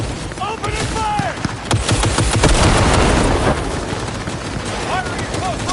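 Rapid gunfire in a Cyberpunk 2077 firefight against a small army, dense bursts and sharp cracks crowding together loudly and continuously, with shouted voices heard through the shooting.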